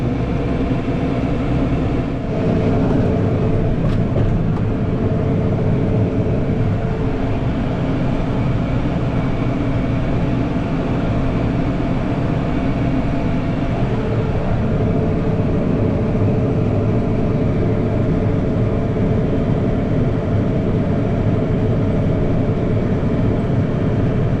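A tractor engine held at about 540 RPM driving hay-cutting and baling equipment, a loud, steady low rumble and drone with mechanical clatter running continuously throughout.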